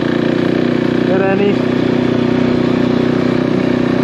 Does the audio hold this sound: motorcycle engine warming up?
yes